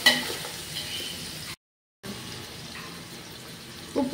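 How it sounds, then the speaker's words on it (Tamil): Chopped onions sauté in a pan for Sunday biryani with a steady, close sizzle and hiss. The sound cuts out briefly midway, then resumes with a few louder stirring clatters near the end. "நல்லா வதங்கி கோல்ட் கலர்ல வந்துச்சு வெங்காயம்"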